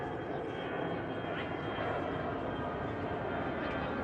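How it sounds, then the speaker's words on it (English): A jet aircraft passes overhead in a warm outdoor city setting in Georgetown, Washington DC, a steady broadband roar that holds constant throughout without any clear rise or fade. "It's a jet."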